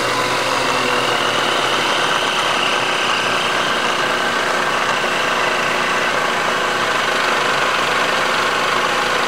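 A machine spindle runs steadily at high speed during cylinder clearancing work for a 1973 Honda CB750 custom build, a loud, even mechanical whir with a constant hum and no pauses.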